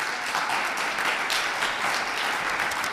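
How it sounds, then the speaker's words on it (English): An audience at an annual meeting claps in a brief, full burst of applause that stays steady and close for a few seconds. "So if we can give them a round of applause."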